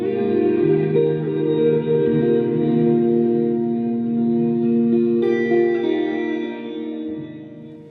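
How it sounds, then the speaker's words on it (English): An EarthQuaker Devices Afterneath V3 reverb pedal in its stock mode washes sustained guitar notes into a thick, shimmering reverb tail, with layered tones ringing on and slowly fading. "the mode knob all the way to the left is basically the stock Afterneath reverb sound"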